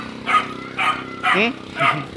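Dog barking in several short, evenly spaced bursts at moderate distance, outdoors at a Coast Guard barracks area, with people talking around it.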